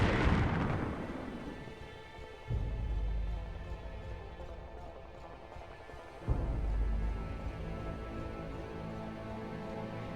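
The starship Repulse is destroyed in a Star Trek: Alliance space battle: a loud opening blast, then deep rumbling booms at intervals that swell and fade over a low ambient hum.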